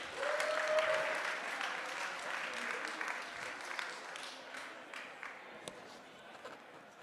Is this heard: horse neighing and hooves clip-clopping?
no